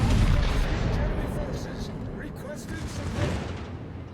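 Heavy naval gun salvo fired in World of Warships, a dense, loud rumbling boom sustained across the moment with a second swell of blast near the end, overlaid on continuous game noise.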